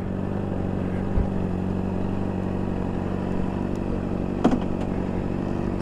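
A motorcycle engine putters at a low, even idle nearby while the bike is being parked, with a couple of brief clicks and clunks partway through.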